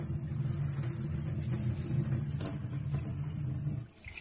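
A kitchen tap runs at strong pressure after a Geyser drinking-water filter is installed, pouring in a steady, close rushing stream before cutting off abruptly just before the end.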